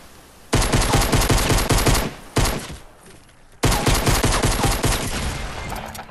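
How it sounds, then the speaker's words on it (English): Dense, rapid automatic gunfire in Fortnite comes in long rattling bursts, breaking off briefly twice before resuming loud and close, with no talk over it. "He's shooting me, Amber."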